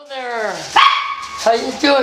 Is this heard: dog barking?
yes